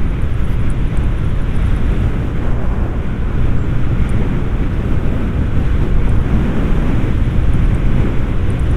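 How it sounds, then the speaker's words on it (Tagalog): Strong wind roars steadily across the microphone during a motorcycle ride on the Andaya Highway, Camarines Sur, a dense low rumble with no pauses for the whole stretch. "Marami lakas talaga ng hangin."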